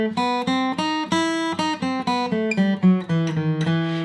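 Guitar playing an E harmonic minor scale, a run of clear individual plucked notes in steady succession, close and alone with no talking.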